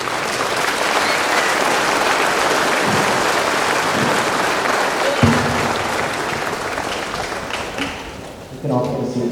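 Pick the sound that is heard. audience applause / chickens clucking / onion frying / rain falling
audience applause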